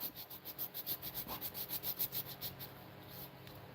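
Hoop earrings of African blackwood are sanded with 220 or 320 grit sandpaper in quick, even back-and-forth strokes, about a dozen close rasping passes that fade into a softer hiss.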